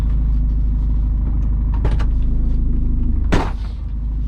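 A turbocharged car with no blow-off valve runs with a close, steady low engine rumble. Short sharp bursts come through, the loudest just before the rumble drops off near the end.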